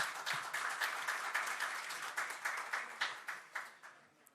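Audience at a special council plenary session in Osasco claps for several seconds, a dense steady applause that thins into a few distinct separate claps near the end.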